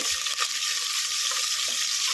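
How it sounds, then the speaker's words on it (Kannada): Steady, bright sizzling of spices in hot oil throughout, loud and close, with faint clinks from a pressure cooker underneath. "ಒಗ್ಗರಣೆಗೆ ಏನೇನೆಲ್ಲ ಸಾಮಗ್ರಿ ಹಾಕ್ತಿರೋ ಅದನ್ನೇ ಸಾಮಗ್ರಿ ಎಲ್ಲ ಹಾಕ್ಬಿಟ್ಟು ಒಗ್ಗರಣೆ ಮಾಡಿಕೊಂಡು"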